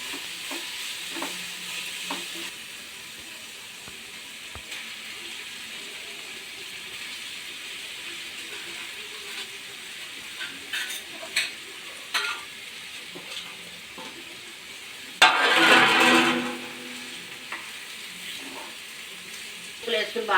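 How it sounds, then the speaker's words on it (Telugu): Fish masala curry frying in a pan, soft sizzling under scattered clinks and scrapes of stirring, with a louder burst of hissing and stirring partway through. "వేసుకుని బాగా తిరగమరగ వేసుకోవాలి. ఇలా కలుపుకోవాలి."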